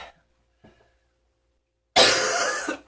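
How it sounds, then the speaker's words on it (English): A single loud, harsh cough close by, into a fridge, following a moment of near silence and a faint breath. "coughing into his fridge"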